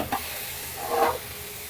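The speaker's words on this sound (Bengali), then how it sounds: "এখন আমি ভেজিটেবলটাকে সতে করার জন্য একটু বাটার দিয়ে দিলাম।" Vegetables sauté in butter in a pan with a soft, steady sizzle and a brief stirring scrape near the end, quiet and close with no voices.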